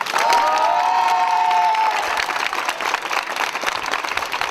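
A festival audience at a live drawing battle in Lyon bursts into dense, loud applause mixed with cheering, and a long whistle rises early on before the clapping carries on steadily.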